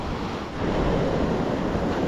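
Sea waves wash steadily onto the shore in a continuous rushing roar, with wind buffeting the microphone and no voices.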